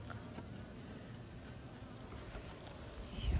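Honey bees hum steadily around an open hive on a windy day after rain, a dense, continuous buzz swelling a little louder near the end.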